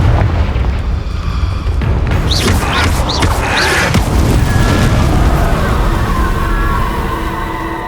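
Repeated booming Confringo spell blasts in Hogwarts Legacy, a dense barrage of loud crashing explosions layered over continuous rumbling game noise with no pauses.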